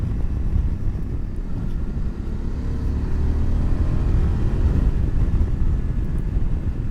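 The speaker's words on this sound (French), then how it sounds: "tu n'entends plus que cette sonorité vachement agréable au niveau de l'échappement et de la boîte à air" Voge 900 DSX motorcycle riding along, a steady low exhaust and airbox drone with wind rush, continuous and fairly loud throughout.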